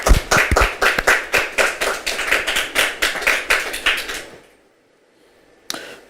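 Studio audience clapping in a fast, even rhythm for about four seconds, close and fairly loud, then stopping abruptly, followed by near silence and one last isolated clap.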